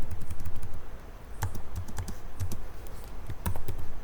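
Python code being typed on a computer keyboard: irregular bursts of crisp key clicks and clacks, close and fairly loud, with short pauses between strokes and no talking.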